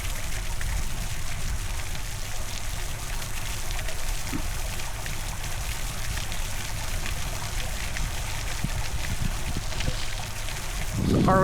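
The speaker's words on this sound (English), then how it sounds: "What you are hearing are thunderous rain clouds." Heavy rain pours steadily on a hot afternoon, a dense, even wash of water close by that runs unbroken throughout, with a brief louder swell at the very end.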